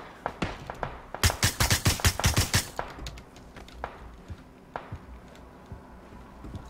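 Gunfire in PUBG: a quick run of about ten loud shots, close by, then scattered single cracks and a few fainter shots further off.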